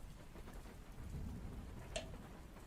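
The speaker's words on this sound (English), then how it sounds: "Are you playing rain noises too?" Steady rain hisses and patters in the background at low volume, with a faint distant rumble of thunder and no voices.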